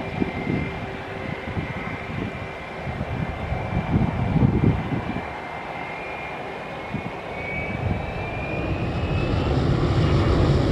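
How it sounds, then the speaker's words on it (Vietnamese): An Emirates Boeing 777-300ER airliner at an airport, its jet engines giving a steady loud roar with a high whine that gradually bends in pitch as it moves, heard alone for about ten seconds. "Một góc nhìn khác về chiếc 777-300ER của Emirates."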